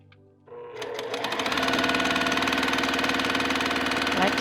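A sewing machine starts up and stitches quilt pieces, settling into a fast, even mechanical whir of needle strokes that runs close and steady to the end, no talking.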